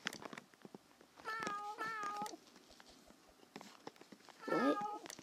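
Cartoonish cat meows from enemy cats in a Roblox obby game set in a grandma's house, with a pair of clear mid-clip meows and a louder, wavering one near the end over faint game sounds.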